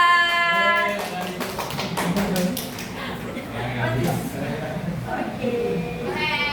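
Elementary schoolchildren in a classroom clap for a group of classmates, with a quick burst of claps near the start mixed with excited children's voices that carry on and chatter over the room noise afterward.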